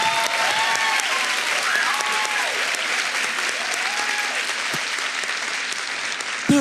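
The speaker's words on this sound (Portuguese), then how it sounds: "a gente pode aplaudir esses dois" Loud, dense applause from a church event audience filling the space for two guests, steady and sustained throughout with a few voices calling out over the clapping.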